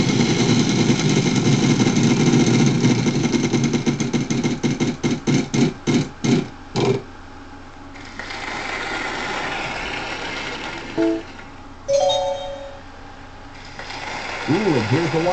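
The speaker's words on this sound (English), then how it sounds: "Spin the wheel." Wheel of Fortune wheel spinning in the Nintendo DS game, a rapid run of loud clicks that slows and spaces out over several seconds before stopping, followed by quieter game sounds and chimes.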